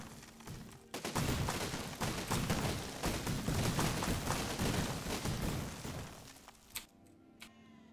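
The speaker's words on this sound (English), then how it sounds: "skidding along the ground, firing your little cannons" Rapid, overlapping cannon blasts from a flagship in the game Besiege, a dense barrage of booming shots lasting several seconds before cutting off abruptly.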